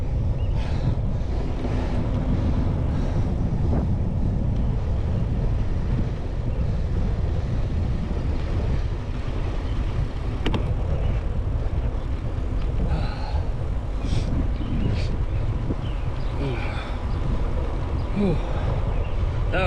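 Wind roars steadily across the microphone while a bike coasts downhill on a rainy trail, a constant loud low rush with faint road noise beneath it and no talking.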